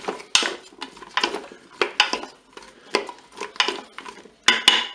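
Potato slices being tossed with oil in the metal bowl of a Cookeo cooker, a run of close clattering scrapes and knocks of a utensil against the pot in an uneven rhythm, with no voices.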